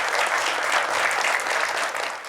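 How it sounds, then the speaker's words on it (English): Audience applause at an annual spelling bee, steady dense clapping from a crowd filling the whole stretch without talk over it. "Let's give a round of applause, please, for Simon."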